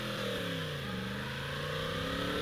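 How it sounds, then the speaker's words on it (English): A 2016 Yamaha R1S sport motorcycle engine revs up, a close, loud, rising growl with steady harmonic whine climbing in pitch across a couple of seconds, no voices. "Let's give it a rev here."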